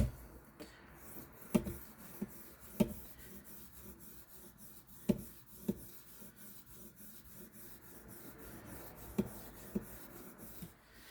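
A knife is drawn over fine-grit stones on a Hapstone RS guided sharpening system in quiet, even rubbing strokes, with soft clicks and taps between passes and no speech.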